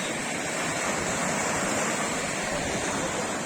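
Constant roaring wash of Black Sea waves breaking on a beach, broad and unbroken, with a faint rush of wind.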